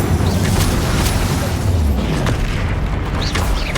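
Fire spell blasts from the Hogwarts Legacy wizarding game, a dense run of heavy booming explosions and bursts layered over a loud continuous low rumble, with no talking.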